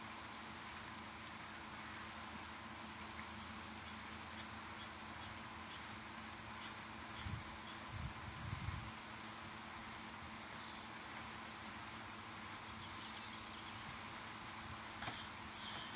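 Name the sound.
heavy rain pouring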